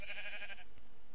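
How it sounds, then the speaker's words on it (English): A single Minecraft sheep bleats once, a short, nasal, faint call on its own. "The sounds of you sheep would drive me absolutely insane."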